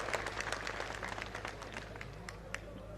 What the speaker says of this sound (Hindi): एक बार जोरदार तालियां बजा के उनका स्वागत करें